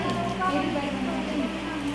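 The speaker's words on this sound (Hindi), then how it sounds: "यहाँ बारिश हो रही है।" Rain falls steadily in a mountain village in Uttarakhand, a dense continuous patter filling the clip at a constant level with no distinct individual drops standing out.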